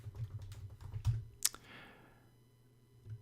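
Fingers type a web search into Google on a computer keyboard, a quick run of close, crisp key clicks that ends in one sharp tap, then a brief pause and a few more soft keystrokes.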